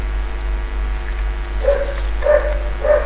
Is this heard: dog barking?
yes